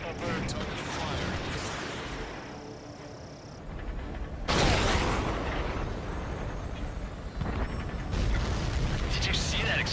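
A supply ship blowing up in an Ace Combat 7 campaign mission: a loud broadband blast bursts in midway, followed by another rumbling explosion later, set among jet engine roar and game effects.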